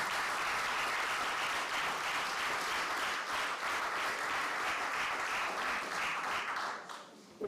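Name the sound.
audience applause for guests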